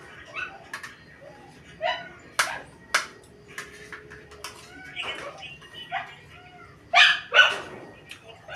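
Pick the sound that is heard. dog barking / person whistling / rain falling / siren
dog barking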